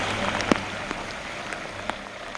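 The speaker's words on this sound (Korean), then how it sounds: "비가 오고 계곡에 물도 불었다." Steady rain falling over a mountain valley, a dense even hiss with a few sharper drip or patter hits standing out, moderately loud and with no voices.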